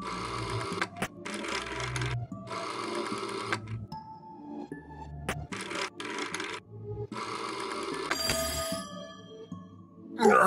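In a video game, a telephone rings in repeated bursts of electric jangling separated by short pauses, with faint clicks between rings and no talking.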